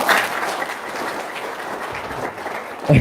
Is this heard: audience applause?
yes